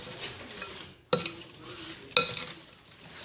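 Apple pie filling stirred in a bowl, soft wet shuffling and scraping up close, broken by two sharp knocks of a utensil against the bowl.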